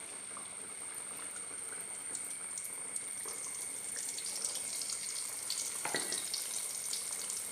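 Madakku san dough pieces fry in hot oil over a medium flame, giving a steady bubbling sizzle that swells a little toward the end, with no one talking.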